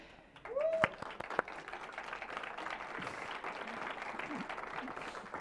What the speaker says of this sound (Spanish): Siéntanse libres de aplaudir cuando ustedes quieran